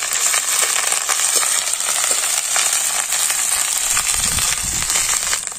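Ginger and garlic paste frying with chopped onions in a hot pan for prawn-stuffed pointed gourd, a continuous even hissing sizzle with faint crackles and soft stirring throughout.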